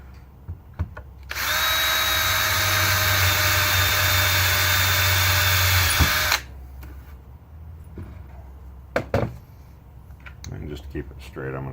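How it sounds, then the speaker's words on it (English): A power drill drives a screw into a skateboard in one loud, sustained whirring burst of about five seconds, followed by quieter clicks and handling noises. "I'm going to go ahead and put a screw through there too, but I'm not going to tighten this one down."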